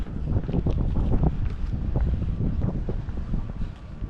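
Strong gusty wind in Ras Al Khaimah buffeting the microphone, loud and continuous with rumbling low gusts throughout, no talking.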